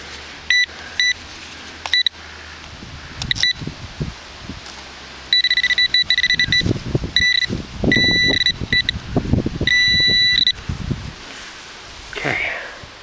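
A metal detector gives repeated electronic beeps over a buried find in a field at an old inn site in Cumbria, the short tones coming in bursts amid rustling and handling noise, with a person talking intermittently.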